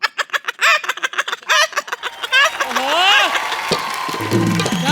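A person imitates a hen's clucking with rhythmic, bird-like bursts and squawks, loud and close, followed by laughter and cheering from an audience at a comedy show.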